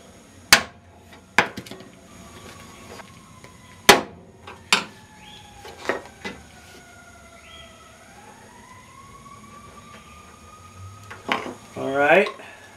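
Metal-on-metal strikes and scrapes while breaking a rusted spring clip inside a door lock, several sharp loud clanks spaced irregularly, a long squealing scrape in the middle, and a rattling flurry of clinks at the end.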